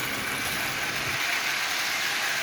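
A Marx toy locomotive, a 6-volt 490 model refitted with a can motor and running on 12 volts while pulling ten cars, gives off a steady, close motor whir and hum with no talking over it.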